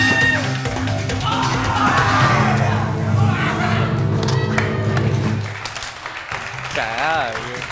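A television studio audience on a game show breaks into loud, sustained applause and cheering, filling the room for several seconds before fading. A host's voice rises briefly near the end.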